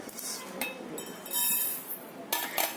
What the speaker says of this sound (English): Once they begin to splutter, we're just going to transfer them to a bowl.